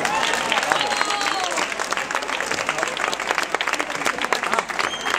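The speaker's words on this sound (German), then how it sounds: "Und wir begrüßen ihn in einem herzlichen Applaus." Spectators give warm applause at a cycling race, the Schwaz Altstadtkriterium elite/U23 event, with dense, lively clapping and crowd noise throughout and some whistles and cheers mixed in.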